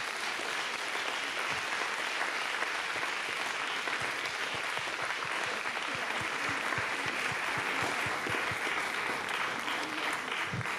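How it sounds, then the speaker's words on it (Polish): Steady, dense audience applause fills a large hall during an awards gala at Stary Maneż in Gdańsk, continuous and loud throughout with no pauses. "brawa dalej"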